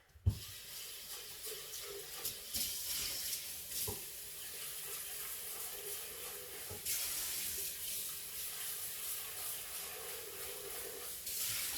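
A bowl rinsed out under a running kitchen tap, a soft steady stream of water with splashy swishes and a few sharp knocks of the bowl, faint and close, with no talking.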